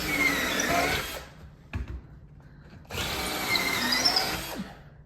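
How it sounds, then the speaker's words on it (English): A power drill whines loudly for about a second, stops briefly with a few clunks, then drills again in a long, steady run, boring holes for a sliding barn door track bracket. "Now we're drilling them out."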